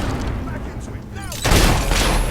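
Soldiers firing guns in the fantasy RPG Fable III, a brief burst of loud gunfire and booms coming in partway through over a rumbling battle din, with a voice heard under it.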